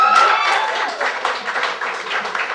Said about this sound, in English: Round of applause for 22 years of marriage.